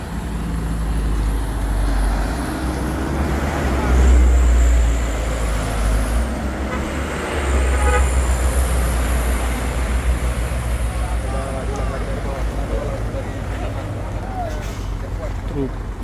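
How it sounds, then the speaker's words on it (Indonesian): A heavily loaded Fuso truck strains on a steep hill, its deep engine rumble steady and close with brief surges, while people talk over the noise. "Truk super grade Fuso."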